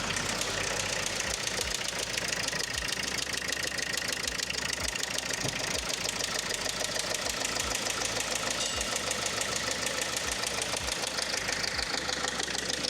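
A Range Rover Evoque engine misfires at idle after a wrongly installed timing belt left some valves bent. It gives a steady, close, loud running drone with an irregular knock and stumble recurring throughout.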